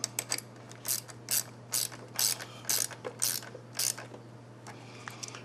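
Socket ratchet clicking as a battery terminal nut is tightened, about a dozen crisp, evenly spaced bursts of pawl clicks, close and loud over a low steady hum, with no talking.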